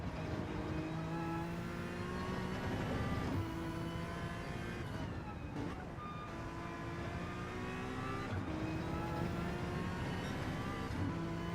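Onboard engine note of a Honda NSX GT race car lapping Spa in a sim racing game: a loud, steady high-revving drone that rises through the gears, with sharp dips at shifts and braking around three points, and no voices.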